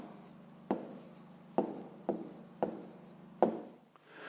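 A pen writes an answer by hand on paper during a fifth-grade math exercise, producing a series of quiet, close scratching strokes separated by short sharp taps, with no talk over it.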